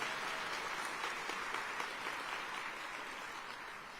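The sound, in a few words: audience applause for council members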